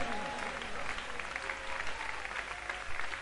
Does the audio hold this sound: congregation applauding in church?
yes